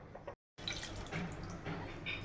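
Water is poured into cooking dal for a Maharashtrian katachi amti, a steady splashing, trickling flow. It breaks off for a moment, then carries on close and continuous, with no talk.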